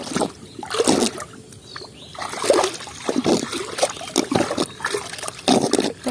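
Water trickles and splashes through a pipe on a low, rain-flooded rooftop after heavy rain, a steady wet gurgling with uneven louder surges, fairly close and heard alone.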